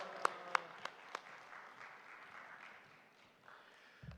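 A church congregation applauding to welcome a preacher at a Sunday service, opening with a few sharp separate claps that blend into a soft, diffuse patter of applause, which fades toward the end.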